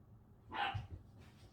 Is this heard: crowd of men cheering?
no